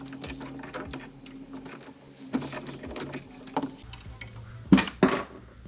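A metal bolt drops into an Audi 3.2 V6 or 4.2 V8 engine bay, two sharp close clinks near the end after a stretch of quiet shop clatter.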